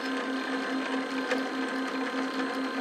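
Homebuilt coil winder turning out windings for an interstage transformer, a steady close mechanical whir with a fast regular pulsing hum and no pauses.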